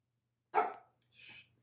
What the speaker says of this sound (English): I'm so sorry, everyone, my little doggy.